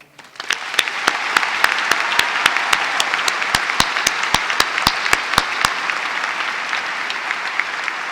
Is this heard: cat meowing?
no